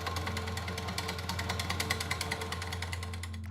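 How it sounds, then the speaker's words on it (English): A drill slowly cutting a hole through carbon for a Spartan gunsmith adapter installation, giving a steady close grinding whir with a rapid rhythmic chatter that winds down at the end. "don't run the drill too quick"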